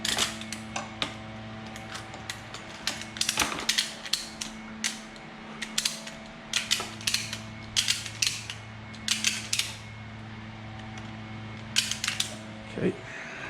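A ratchet strap cinched down on a motorcycle for a track day, with rapid bursts of close mechanical clicks and creaks in uneven runs over a low hum.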